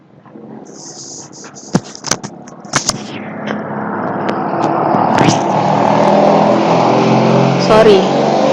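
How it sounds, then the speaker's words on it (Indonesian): A motorcycle engine passes outside during a lecture, starting with a few sharp bangs and knocks and then a rising, sustained engine roar that grows louder toward the end. "Sorry, suara motor."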